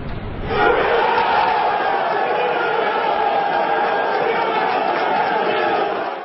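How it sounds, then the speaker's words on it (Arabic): Tunisian football fans celebrate a win over Morocco at the 2012 match in Libreville. Their crowd roar is a loud, continuous wash of cheering and chanting that holds steady from start to finish. "وبعد هذا الفوز عبرت الجماهير التونسية عن فرحتها بالبداية القوية للمنتخب"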